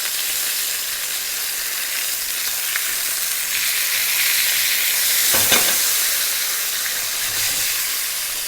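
A Dover sole sears in butter and oil with a loud, steady sizzle and hiss. One brief sharper flare of spitting breaks in partway through, and no one speaks.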